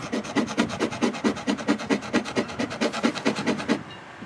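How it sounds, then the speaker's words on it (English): A scraper drags across the epoxy-coated hull of a sailboat in quick rhythmic strokes, about twenty close rasping scrapes in a steady back-and-forth before stopping. "So what we're going to do is see exactly what we have here by scraping it off."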